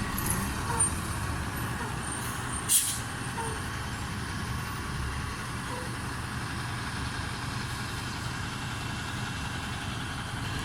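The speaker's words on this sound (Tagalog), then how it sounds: "may bus pero pabutuan man" A bus idles with a low, steady engine rumble over about ten seconds in a rural setting in Japan, broken by a brief sharp hiss of air brakes near the start and a quieter one earlier.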